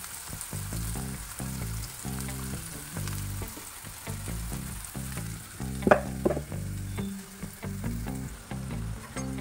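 Chopped onions sautéing in a pan for a fish egg fry, a loud steady sizzle with repeated rhythmic scrapes and clinks of the spatula against the pan, close up, no talking.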